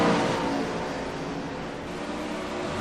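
A 410 sprint car engine running close alongside on the Eldora dirt track in iRacing, a loud sustained buzzing roar that swells at the start and then holds a steady drone, with no voices.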